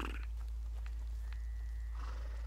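Horses in a horror video game snort and huff in short bursts over a loud low rumble, with faint rustling and a brief whinny-like tone.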